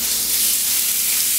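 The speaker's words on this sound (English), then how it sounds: "And this is going to sizzle, so get ready." Steaks hit a hot indoor grill slicked with olive oil, giving a loud, steady, close-up sizzle of spitting fat and steam that holds without a break.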